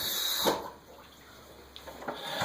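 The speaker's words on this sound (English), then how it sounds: "I'm just going to rinse it in some fresh water real quick" Pipette being rinsed in fresh water, a soft running, splashing wash with faint trickles and gurgles over a steady background hum, no speech.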